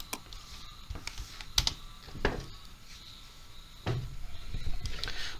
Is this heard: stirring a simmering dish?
no